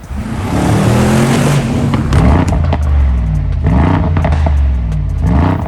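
A powerful 600-horsepower engine in a BMW X6M or Mercedes-AMG G63 revs and roars up close, rising and falling in several loud bursts with a rattling mechanical edge.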